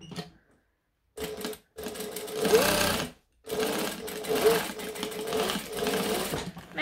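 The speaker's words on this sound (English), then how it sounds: "I'm gonna stitch the sides together, not the bottom, because that's where I'm gonna turn the bag through" Sewing machine stitching the side seams of a fabric bag, running in several bursts with brief pauses between them, close and fairly loud with no talking.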